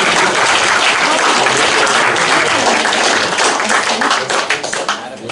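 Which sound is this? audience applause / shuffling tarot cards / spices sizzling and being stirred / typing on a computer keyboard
audience applause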